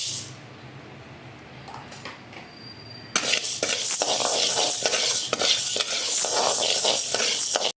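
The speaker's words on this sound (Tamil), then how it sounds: "இப்போ உளுந்த வறுத்துக்கலாம்" Urad dal is stirred as it roasts in a pan for curry leaf podi, with a quiet start and then loud, continuous scraping, rattling and light sizzling of the lentils against the metal, close up and with no voices.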